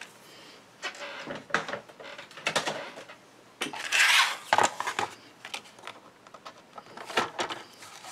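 Card stock being cut down to size for a stenciled card, with a series of irregular snips, slides and handling noises, some sharp and close, others softer, spaced unevenly with short quiet gaps.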